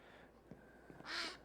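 Ducks from the Minecraft video game, a few short quacking calls at low level followed by a louder, brighter call near the end, with no talking.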